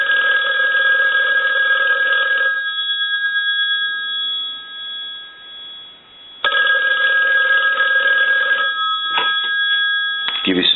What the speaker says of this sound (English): I'm going to go ahead and hang up, give it a ring.